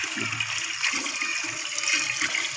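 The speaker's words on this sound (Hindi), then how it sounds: "ये मसलसल उबल रहा है" Water in a kushta fauladi (iron calx) mixture bubbles and gurgles continuously without heat in a steady rolling churn, close by, with no voices.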